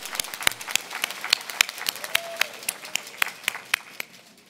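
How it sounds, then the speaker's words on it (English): Audience applause at an awards evening honoring women of innovation finalists, a steady patter of many hands clapping with sharp individual claps standing out, moderately near and alone without talk. "let's give her a round of applause."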